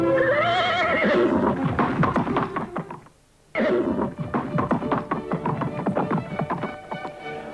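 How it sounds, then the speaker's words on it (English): Racehorses parade before race 3 of the Carbine Club Stakes in 1995, with repeated close whinnies and neighs over a busy clatter of hooves and knocks, broken by a brief near-silent gap midway. "Okay, there are the horses parading for the Carbine Club Stakes,"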